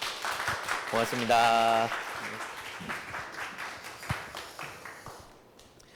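An audience claps to welcome a lecturer to a Christian lecture series, a pattering round of applause that fades out gradually while someone speaks briefly over it.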